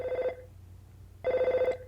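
A telephone in EarthBound rings twice, each a bright electronic trill about a third of a second long separated by a pause, clear and close with no talking.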